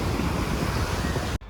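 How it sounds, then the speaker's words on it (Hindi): Ocean surf washing repeatedly up the sand at Anjuna Beach in Goa, a steady close roar of breaking waves with wind across the microphone, cut off abruptly near the end. "पानी की वेव्स बार बार और पीछे पीछे तक आते जा रही हैं"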